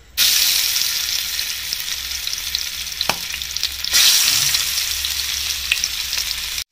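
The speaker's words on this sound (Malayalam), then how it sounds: "നമ്മൾ പാനിലേക്ക് എണ്ണ ചൂടായിട്ടുണ്ട്. ഇതിലേക്ക് നമുക്ക് ഓരോ മീൻ കഷ്ണങ്ങൾ ഇട്ട് കൊടുക്കാം." Pieces of seer fish and tilapia go into hot oil, setting off a loud, continuous sizzle that holds for several seconds, with a brief surge partway through and no talk.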